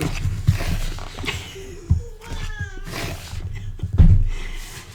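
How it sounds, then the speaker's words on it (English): A cat meows several times in short, clear calls, close by, with a few louder thumps and bumps around it. "It's my CoCo bean. Meow"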